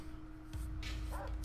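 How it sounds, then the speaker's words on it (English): A dog in the video game Far Cry 3 gives a few short, faint barks and yips over a steady electronic hum and background game ambience. "There's the dog coming up."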